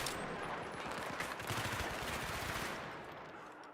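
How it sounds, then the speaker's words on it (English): Sustained automatic gunfire in the shooter game Battlefield 3, a dense rapid rattle of shots rolling on steadily and easing slightly toward the end, with no talking. "Oh, that's a good gun sound though, man"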